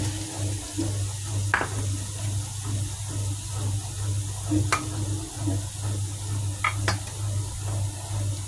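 Dried scallop and garlic frying over low heat in a pan, a steady soft sizzle with a low hum underneath and a few scattered clicks of a spatula, no talking.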